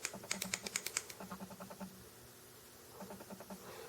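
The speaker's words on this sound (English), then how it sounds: "So you click it 5 times to unlock." Repeated clicking of the fire button on a Ciggo T TC 100W box mod by Bauway, a quick run of about five to eight small crisp clicks up close, then a shorter burst after a pause, quiet with no voices.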